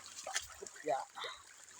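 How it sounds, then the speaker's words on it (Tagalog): Water trickles and splashes in a small stream while people talk nearby, the burbling rising and falling in short bursts. "agos ang tubig"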